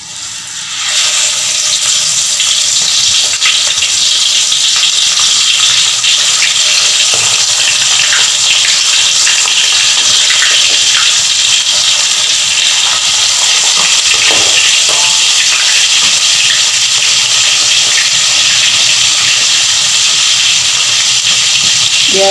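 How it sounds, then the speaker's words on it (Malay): Food sizzles and hisses loudly in a hot pan, a dense steady crackle that holds for the whole stretch with a few sharper pops. "Okay, sekarang kita dah boleh goreng."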